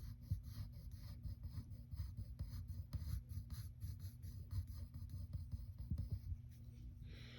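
A pen or pencil moves over paper up close while circles are drawn for a cartoon eye, giving a soft, continuous scratchy rubbing with small rhythmic strokes over a low hum.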